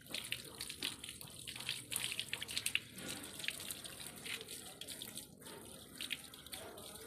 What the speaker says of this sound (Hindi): नहा रहा तो कौन नहला रहा ब्रूनो को?